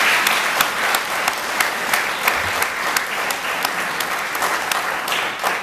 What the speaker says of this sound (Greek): Ο κύριος Καζάκης, Ένα χειροκρότημα παρακαλώ.